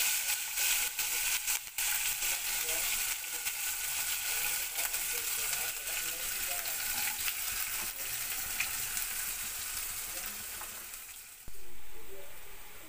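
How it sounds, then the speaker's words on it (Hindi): Okra sizzles as it fries in a pan with ginger garlic paste, a steady hissing crackle that runs the whole time, broken by occasional stirring clatter. "ये सब मिक्स होने के बाद में आप भिंडी डाल दीजिए इसमें"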